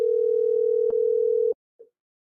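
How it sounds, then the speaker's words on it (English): Outgoing telephone call with a steady ring-back tone held loud and close for about a second and a half, then cutting off abruptly, followed by a short faint blip. "And as I'm letting it ring,"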